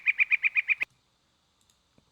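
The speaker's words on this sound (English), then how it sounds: "And then here's the other bird." A rainforest bird repeats a sharp chirp about seven times in quick, even succession, loud and close, then stops, leaving near silence with a few faint ticks.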